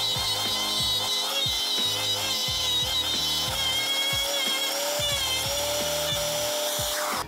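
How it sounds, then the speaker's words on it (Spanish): A router guided by a template copier cuts a cross shape into a wooden piece, producing a loud continuous high whine with rhythmic grinding bursts as the bit moves through the wood. "utilizar esta plantilla para calar esta cruz en esta parte de madera"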